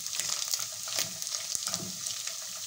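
Small omena fish frying in a covered pan, a steady crackling sizzle with dense popping spatters running through the whole stretch, close and fairly loud with no voices.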